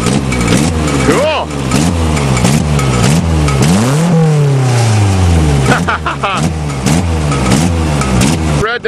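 A modified Nissan 200SX with an exhaust mod, its muffler wrapped in a tractor cover, revs hard in repeated rising and falling surges, loud and close, while people talk over it.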